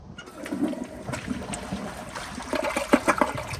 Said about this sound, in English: I'm gonna try that one more time on the half flush